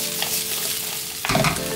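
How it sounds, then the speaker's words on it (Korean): Onions stir-fry in a hot pan with a steady, close sizzle, and a louder burst of stirring near the end; there is no talking. "자, 다음은 양파를 볶아줍니다."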